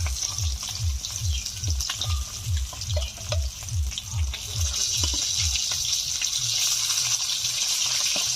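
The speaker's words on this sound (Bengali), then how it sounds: "এখন উল্টে ভেজে নিচ্ছি।" Pieces of fresh pond katla fish frying in hot oil after being flipped, a steady loud sizzle with a rhythmic low thumping pulse in the first half, then an even, continuous crackling hiss.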